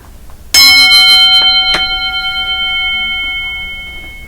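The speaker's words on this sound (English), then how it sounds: "So I'm going to ring the bell. I'm going to ask you to listen carefully." A meditation bell is struck once, close and loud, its bright shimmering tone ringing out and slowly decaying with a gentle wavering pulse, with a faint second tap shortly after and no voices.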